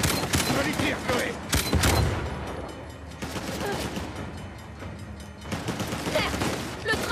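Rapid bursts of gunfire from Uncharted: The Lost Legacy, loud volleys and machine-gun fire sustained across the whole stretch, with voices faintly underneath.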